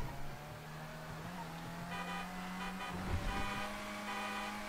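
A video game car drives along with a steady engine drone and shifting tonal whine, heard moderately faint and continuous, with a brief horn-like tone partway through and no clear talk over it.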